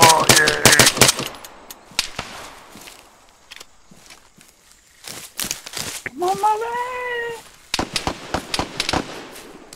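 Gunfire in the military video game ARMA 3, rapid bursts of close shots and cracks in clusters at the start and end, with a voice shouting in the middle.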